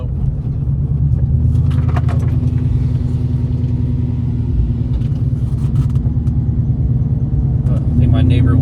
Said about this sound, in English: So we're in the Mustang, as you can hear